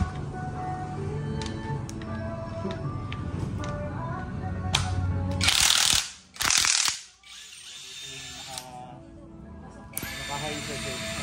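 INGCO cordless impact wrench test run, heard as two loud bursts of hammering impact close by, a second apart, over a steady ratcheting mechanical background.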